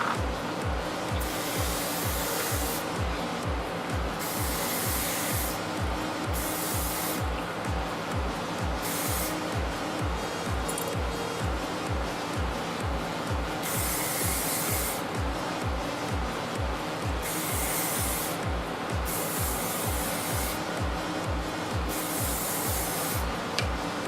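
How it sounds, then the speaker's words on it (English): Suave Professionals Touchable Finish hairspray hissing from an aerosol can in a long run of steady bursts, separated by brief pauses, close and loud over a constant low rumble. "It's a Suave hairspray, Suave Professionals Touchable Finish Hairspray, and it's in the lightweight holds"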